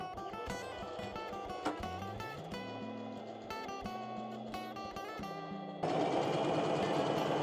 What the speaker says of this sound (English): we are just gonna do a simple single stitch to attach the pocket and the front panel together